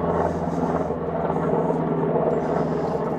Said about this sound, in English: just a single helicopter, however.